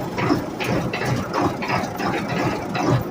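An engine cranks over and over after starting fluid has been sprayed in, a steady rhythmic whirring and grinding of the starter that keeps turning without catching, close and fairly loud.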